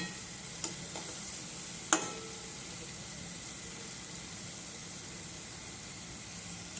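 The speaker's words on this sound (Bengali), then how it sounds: "বড়াগুলো আমি সুন্দর করে ভেজে নেব এইভাবে" Palm fruit fritters (taler bora) frying in hot oil, a steady close sizzle throughout with two sharp utensil clicks early on, no voices.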